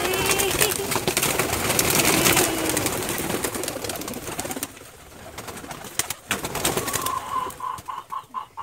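A flock of pigeons at a man-made pigeon shelter takes off in a burst of flapping wings, with soft cooing mixed in; a dense, busy flutter fades to quieter, scattered wingbeats and calls.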